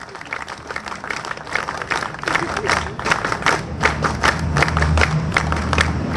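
Audience at a political party tribute breaking into sustained applause, dense clapping that builds and holds, with some voices and cheering mixed in.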